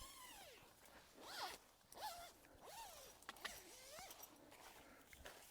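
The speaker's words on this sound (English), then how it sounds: "Grab my zipper." A tent zipper on a Seek Outside Redcliff Half Nest is pulled closed in several short, quick runs with brief pauses between them, close and fairly quiet, with faint rustling of fabric.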